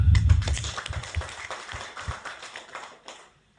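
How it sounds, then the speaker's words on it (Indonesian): A crowd at a volunteer declaration rally in Lampung gives a round of applause, loud at first with scattered hand claps, then thinning out and fading to quiet. "Kita beri tepuk tangan"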